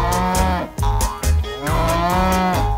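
A cow moos loudly and close by on a restored children's farm-song record, with several drawn-out, throaty lows that come one after another in quick succession.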